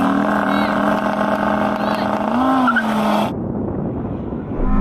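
An Audi R8 and a tuned Audi RS3 launch side by side in a drag race, their engines roaring loud and steady with a rising, whining pitch sweep, before the sound drops abruptly into a duller, muffled rumble.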